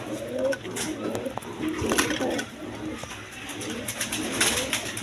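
A pair of white Danish pigeons coos in low, repeated murmurs close by, mixed with faint rustling and other background noise.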